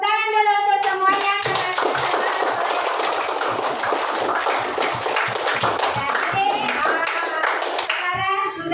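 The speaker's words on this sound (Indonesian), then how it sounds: "Coba beri tepuk tangan dulu untuk semuanya." Children in a classroom clap their hands together in a dense, sustained burst of applause lasting several seconds, bracketed by a teacher's voice at the start and end.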